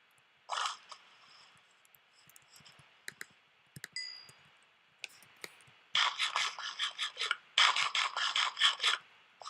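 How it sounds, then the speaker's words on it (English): Rasping, buzzy bursts in the Crazy Craft video game sound like a chainsaw as a mob is killed, starting as short scattered scrapes and then turning into louder, rapid repeated bursts, with no talking. "Why does it sound like a chainsaw when I kill him?"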